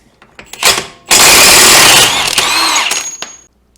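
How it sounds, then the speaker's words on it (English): An impact wrench loosens a Loctite-treated axle nut on a 1990–93 Honda Accord: a short burst, then a loud sustained rattling hammer of about two seconds that trails off, close up with no talk. "So I'm going to be using impact just to save time."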